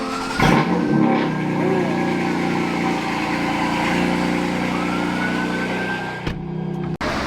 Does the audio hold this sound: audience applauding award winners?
no